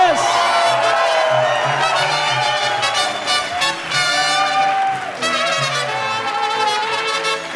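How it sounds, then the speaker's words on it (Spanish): A crowd gives loud, sustained applause with some cheering at an A Course in Miracles spiritual gathering, the dense clapping continuing throughout while a Spanish-speaking voice carries over it. "Otro aplauso fuerte"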